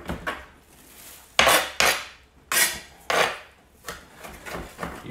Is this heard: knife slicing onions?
yes